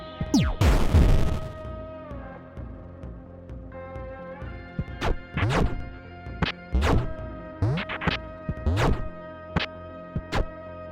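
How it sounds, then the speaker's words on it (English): Explosive crates blowing up in the video game Lazr, starting with one heavy booming blast and followed by a run of sharp, punchy explosion hits spaced irregularly, loud and close. "These crates can be blown up, creating debris, which creates fire and smoke."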